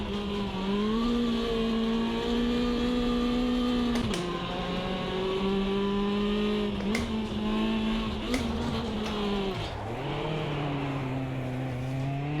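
A race car engine in the sim racing game Automobilista 2 drones at steady revs through gear changes, briefly bogging down and recovering, loud and close from the cockpit.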